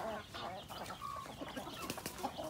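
Native Filipino chickens of Visayan bloodlines clucking close by on a farm, short soft clucks and chirps scattered across the moment with some faint wing flapping.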